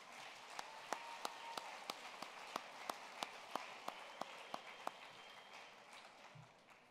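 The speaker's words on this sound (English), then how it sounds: "Let's show our appreciation with a final round of applause" Faint, sparse applause at the 90th Kansas FFA Convention honoring state degree recipients and sponsors: individual sharp claps in a steady, evenly spaced rhythm, distant and thin, tapering off near the end.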